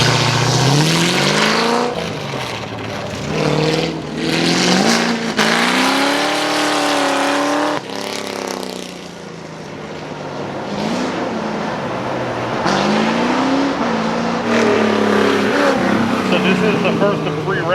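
Mixed Ford race cars, from 1960s classics to new Shelbys, Focuses and Fiestas, roar and rev at the Carlisle Ford Nationals track, engines rising and falling in pitch through repeated loud accelerations with a voice talking over them.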